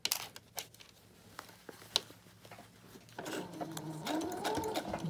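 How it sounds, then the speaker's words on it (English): A sewing machine stitches around the top of a piece, first a few sparse clicks and taps, then a steady whirring run of stitching for the final seconds, fairly quiet and close. "you're just stitching all the way around the top, being sure to leave yourself an opening"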